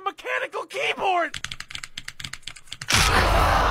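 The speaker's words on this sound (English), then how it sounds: "But he has a mechanical keyboard." Rapid clicking keystrokes on a mechanical keyboard come through voice chat for about a second and a half, close and crisp, right after a voice speaks. A burst of harsh loud noise follows.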